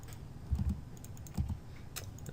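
Keys tapped on a computer keyboard entering a shortcut, a few quick clusters of soft clicks close by, separated by brief pauses, with no talking.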